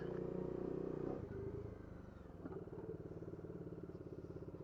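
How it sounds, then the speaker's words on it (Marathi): A motorcycle engine runs close by with a steady, pulsing putter, briefly dipping and then picking back up. "डायरेक्ट मी चालू केली आपली बाईक"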